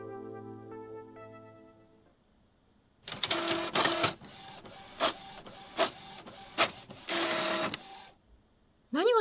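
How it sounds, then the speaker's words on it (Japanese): A white printer in a horror novel video game whirs to life, then runs a printing sequence of loud mechanical bursts and short clicks, standing alone after a quiet stretch of soft tonal music. "壁際の白いプリンターから短い起動音が聞こえた気がした"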